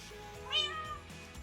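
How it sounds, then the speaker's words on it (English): A Minecraft cat gives a single clear, rising-then-falling meow, fairly close, over a quiet game background. "I hear you, kitty kitty."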